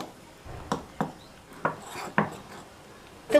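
A coriander paste being stirred into idli batter: a spoon scrapes and knocks against the bowl in five or six soft, rhythmic sweeps, close by and moderately loud.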